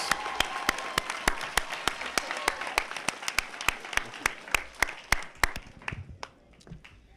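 A graduation audience at Creators Academy applauds, with scattered crowd clapping under a series of sharp, evenly spaced loud claps or taps, thinning out toward the end.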